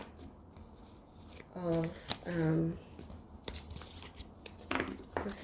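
Heart-shaped cards being shuffled for a three-card reading, papery riffling and rubbing close by, broken up by spoken words partway through.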